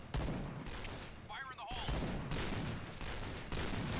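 Sniper rifle fire from a Shaytech in the shooter game Point Blank, loud bursts of gunfire layered with other battle noise, a short quieter gap midway before the firing resumes.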